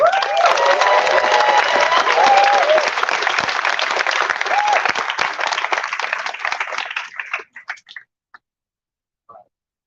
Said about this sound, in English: let's give some huge round of applause